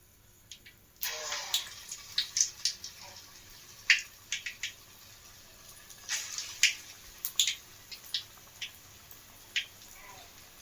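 Small balls of bread vada dough drop one after another into hot oil in a pan, each set off by a burst of crackling sizzle, with irregular bubbling pops repeating close by over quiet background.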